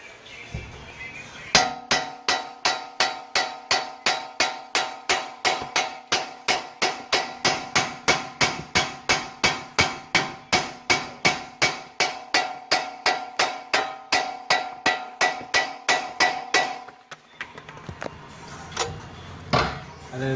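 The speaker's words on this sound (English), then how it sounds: "whenever you bust these loose, you hit it wherever the bolt is going through" A hammer strikes repeatedly to knock loose a bolt holding a Honda Civic steering rack, a rapid even run of sharp metallic blows close by that stops abruptly, followed by a few scattered knocks.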